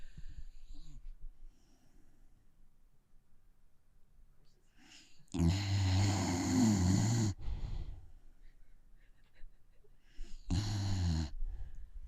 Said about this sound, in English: I love that he's snoring during this.